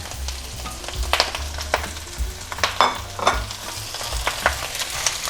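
Chinese kale leaves and stems being stir-fried in a hot pan, with a steady sizzle broken by repeated scraping and tossing strokes of the spatula at an uneven rhythm.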